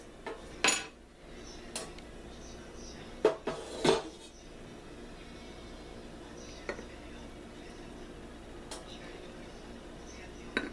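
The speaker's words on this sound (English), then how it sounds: "I want to use a tool like a butter knife, kind of tamp everything down" A butter knife tamps herbs down into hot oil in a jar, giving a few sharp metal-on-glass clinks and scrapes in two brief clusters, then faint scattered taps over a quiet background.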